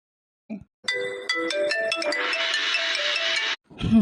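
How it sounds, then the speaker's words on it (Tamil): A mobile phone ringtone plays loudly and alone as a melodic electronic tune of rising tones, continuing for about three seconds between short bursts of voices at either end. "ஃபோன் அடிக்கிறது"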